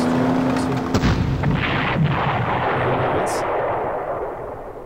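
Artillery defense fire in the Panzer Corps Gold wargame, a loud booming shot with rumbling echo fading over a few seconds, while someone comments over it.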